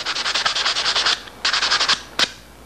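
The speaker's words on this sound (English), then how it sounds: "I'm just going to do a quick sand here on the aluminum" Quick hand sanding on an aluminum aircraft part, heard as two close bursts of rapid, rhythmic back-and-forth rubbing strokes and then one last single stroke, with no talking.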